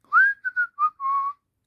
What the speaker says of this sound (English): Mr. Lobster clambered down some rocks and started whistling.